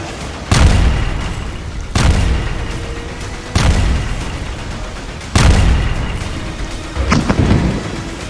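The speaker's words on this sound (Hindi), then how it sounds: "इजरायल के तूफानी हवाई हमलों में बमों के धमाके ऐसे इमारतों को उड़ा रहे हैं" Heavy bomb blasts from Israeli air strikes boom in a series of four or five deep, loud explosions spaced a second or two apart, each with a rumbling tail, with no voices.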